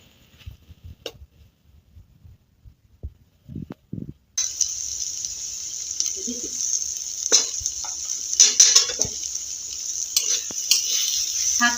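Mixed leafy greens fry in a wok; a few quiet clinks and taps come first, then a loud, steady sizzle starts abruptly, with stirring scrapes and clatter over it, close by.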